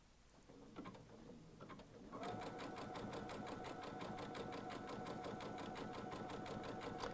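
Baby Lock sewing machine fitted with a 7 hole cording foot starts up after a moment of quiet and stitches steadily at an even, rapid rhythm, close and fairly loud, with no talking over it.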